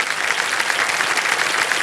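Studio audience applause on the set of the Hindi quiz show Kaun Banega Crorepati, a dense, steady clapping from a large crowd filling the whole short stretch with no voices on top.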